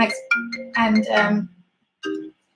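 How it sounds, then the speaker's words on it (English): A mobile phone ringtone sounding during a live stream, short melodic tone bursts in a repeating pattern, close and fairly loud with a gap before the last ring. "I can't believe my phone is ringing now."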